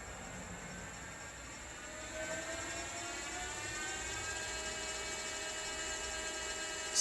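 A Lexus GS300h hybrid drivetrain motor spins up under throttle, giving a steady electric whine with layered rising tones over a low hum that grows slightly louder partway through and holds, close and continuous with no talking.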